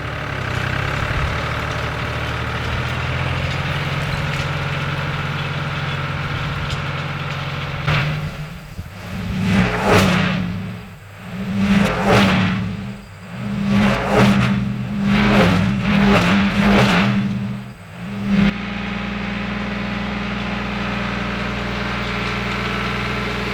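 A vehicle pulling a fine-tooth drag across dry, loose soil on a food plot, its engine idling steadily, then rising and falling in several revving surges over about ten seconds before settling back to idle.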